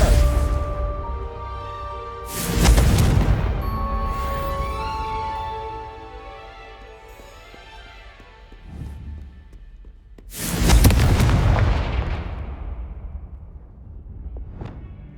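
Confringo blasting spell explosions in Hogwarts Legacy, cast repeatedly: two loud, sharp bursts with rumbling, decaying tails, separated by several seconds of quieter game ambience.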